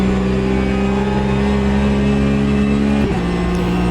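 Race car engine in the driving sim Automobilista 2, a loud sustained drone held at steady revs, then a sudden pitch drop near the end as the car shifts or lifts, no talk.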